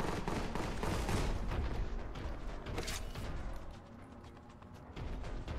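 Automatic bolt gun fire in the video game Boltgun, a loud continuous rapid burst of shots with heavy booms and mechanical clatter, sustained throughout with no pauses.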